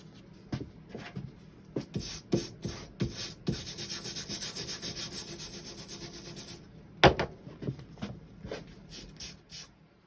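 Rusty, worn sandpaper is rubbed across the front of a wooden hand plane, close rasping strokes in short bursts, then a long continuous scrub, a sharp knock, and a few more quick strokes.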